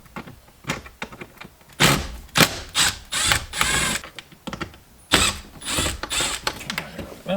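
Phillips head screws being undone from the dash fascia of a Nissan Skyline R33, a close run of ratcheting clicks and mechanical rattles in irregular bursts with brief pauses, no talking.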